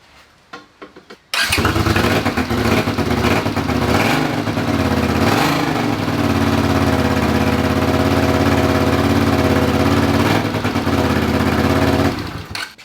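A Honda CX500 motorcycle engine fitted with a stock muffler starts up and then runs steadily and loud at close range, with a deep, even exhaust drone that holds through to the end.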